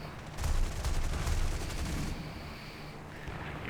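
Aircraft cannon in the War Thunder flight combat game fires a burst of rapid, evenly spaced heavy thuds over a steady engine drone, loud and close, then the firing stops and the engine hum carries on alone.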